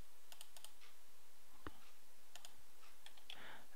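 Keys tap on a computer keyboard in short quiet bursts, a few light clicks scattered with brief pauses and one sharper knock in the middle.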